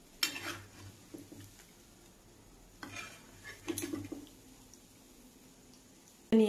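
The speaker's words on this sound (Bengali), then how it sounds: "এবার তেল থেকে তুলে নেব।" A metal utensil clinks and scrapes softly against a pan as egg-and-flour biscuits are lifted out of hot oil, with a few scattered taps over a faint sizzle and a louder clatter at the very end.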